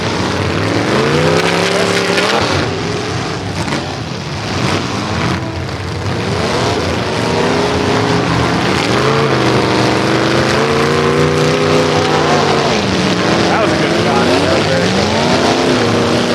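Race cars at a Bash For Cash event roar as they accelerate on track, loud engine notes rising and falling with revs, a continuous near-field howl mixed with faint speech.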